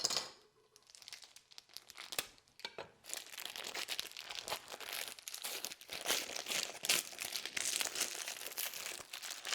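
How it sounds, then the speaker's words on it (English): A pork loaf being unwrapped from its plastic wrapper gives close, busy crinkling and crackling of the plastic, with a short pause near the start and then nearly continuous rustling and tearing noises, with no speech. "for this pork loaf, what we want to do is let's go ahead and unwrap that."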